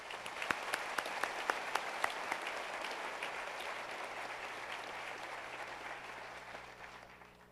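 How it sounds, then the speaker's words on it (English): A high school graduation audience applauds, opening with several sharp, distinct claps before settling into sustained, moderately distant clapping that slowly fades toward the end. "Round of applause, please"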